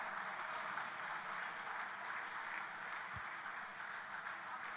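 Sustained audience applause in an awards-function hall in Kovilpatti for dance students, a dense steady wash of many hands clapping at even loudness throughout, with no voices standing out.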